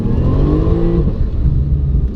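A Porsche 911 Turbo S (991 generation) flat-six engine revs loudly and close up, a steady strong roar with a rising pitch early on, then settling into a sustained drone.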